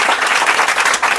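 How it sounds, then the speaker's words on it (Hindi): Loud, dense applause from an audience clapping for a young girl at a live school gathering with children, steady and continuous throughout with no break. "बिटिया के लिए जोरदार ताली बजाओ"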